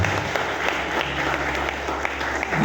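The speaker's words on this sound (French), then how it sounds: "applaudissez." Wedding guests applaud together in a steady, close crowd of clapping over a low background hum, with scattered sharper claps standing out throughout.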